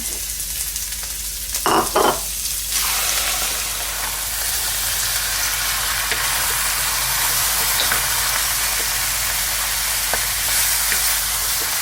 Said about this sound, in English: Add in both the onions and the meat. And we're going to stir fry them for about 1 minute.